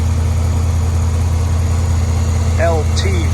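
A 2016 Chevrolet Corvette Z06 with its 650-horsepower LT4 6.2-liter supercharged V8 idles with a steady, deep, loud low drone, and a voice speaks briefly near the end.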